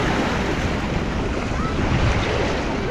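Ocean surf on Abagatanen Beach in Agno, Pangasinan rushes in a loud, steady wash close by, heavily mixed with gusty wind buffeting the microphone.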